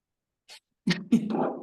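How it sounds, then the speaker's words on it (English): A brief sneeze bursts out during an online committee meeting, a short sharp hiss followed by a voiced expulsion, fairly close and alone over silence. "Someone sneezed"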